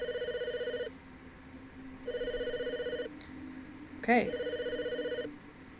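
Telephone ringing inside the horror video game The Fridge is Red: two clear electronic ring bursts with steady pulsing tones, separated by a pause, then a brief voice and a third ring.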